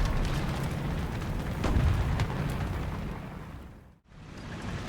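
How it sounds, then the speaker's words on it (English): War Thunder tank battle, a Churchill AVRE's shell striking the turret of a Hungarian Turan I: a dense, rumbling blast-like roar that holds steady, drops abruptly to near silence around the four-second mark, then surges back. "I get on the side of our Churchill and shoot him right in the turret."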